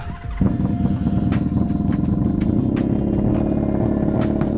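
A four-cylinder Honda Magna motorcycle engine catches with a quick start and settles into a steady, loud, even idle close by, running alone with no talk.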